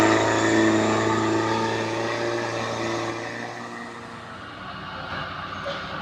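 A Hino 300 truck carrying instant noodles runs past with a loud, rumbling engine and harsh exhaust drone, steady at first and easing slightly before rising again near the end.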